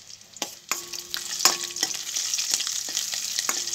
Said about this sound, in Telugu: పప్పులన్నీ వేగినాయి కదా